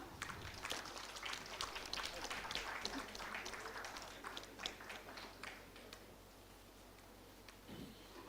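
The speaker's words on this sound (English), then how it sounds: "Keep the applause flowing, students." Steady applause from an audience at a university MBA convocation ceremony in Mumbai, a dense patter of many hands clapping that gradually thins toward the end.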